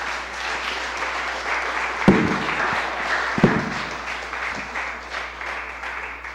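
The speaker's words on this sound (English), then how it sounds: "give her a big applause to cheer her on." Applause from the audience at a live Caribbean arts event, a steady crowd clapping that swells and fades, with a couple of louder nearby claps and some faint voices mixed in.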